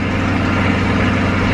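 A 2020 C8 Corvette with performance exhaust idles loudly after a cold start inside a garage, a steady, dense, throaty rumble that holds without a break.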